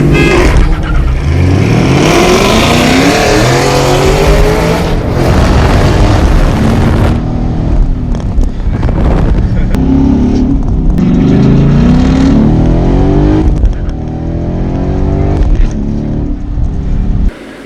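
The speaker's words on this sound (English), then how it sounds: "I like the exhaust though." Ford Mustang GT500 with a Corsa Extreme exhaust revving hard on the street, a loud, deep roar that climbs and falls in repeated surges, with booming pops and a steady engine drone near the end.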